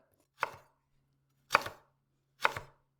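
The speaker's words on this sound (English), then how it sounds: "I like to cut the carrot into strips, so I cut it at an angle and then we'll make them into strips." Knife slicing through a carrot on a cutting board while cutting it into strips: three crisp, separate chops spaced about a second apart, close and clear against an otherwise quiet kitchen.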